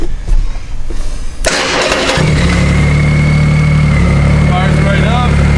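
A 2010 Triumph Rocket 3 Touring motorcycle cranks briefly, then catches and settles into a steady, loud, close idle. Faint talk is heard over the sputter before it starts.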